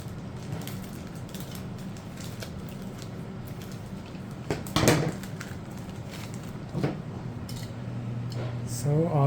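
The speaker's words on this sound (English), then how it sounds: "Here come the scissors." A couple of sharp scissor snips, one around the middle and another shortly after, over a low steady background hum.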